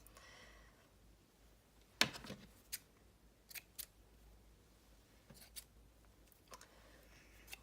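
Scissors snip pink paper ribbon for a scrapbook project, a few sharp, quiet cuts spaced apart over a faint background, with no talking.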